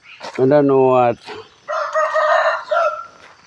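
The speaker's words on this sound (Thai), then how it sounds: "ไก่ขันเสียงดีนะไก่ขัน" A rooster crows loudly and close in Chae Hom, Lampang, Thailand, a long rising call, followed by a second bird's harsher crowing.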